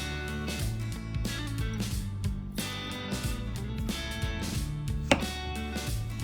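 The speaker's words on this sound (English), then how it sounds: "Next, cut off the top and end of eggplants." A knife chops through eggplants on a cutting board while tempura is being prepared, giving a series of crisp, irregular cuts heard faintly beneath steady background music.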